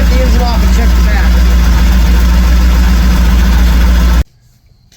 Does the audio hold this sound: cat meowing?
no